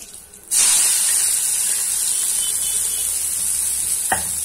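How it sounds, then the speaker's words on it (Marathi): Potatoes are stir-fried in a hot pan for a batata paratha filling, a loud steady sizzle that starts abruptly and holds, with a brief scrape of stirring near the end. "आणि आता आपण बटाटे परतून घेऊया."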